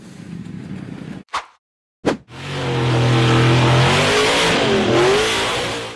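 An orange and silver off-road buggy on a slippery, muddy slope revs loudly. After a short burst and a silent gap, the engine roars up and holds at high revs, close and dominant.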